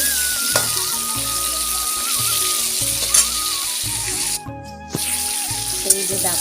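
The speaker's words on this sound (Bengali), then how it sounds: "আমি এখন পটল ভাজা করছি। এই যে পটল ভাজা হচ্ছে।" Pointed gourd (potol) frying in a hot pan, a loud, close, steady sizzle with crackling and a brief dip partway through, with a faint kitchen hum underneath and no talking.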